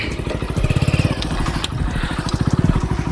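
A motor vehicle engine runs loud and close as it pulls in to park, with a steady rapid thrumming pulse and no talk.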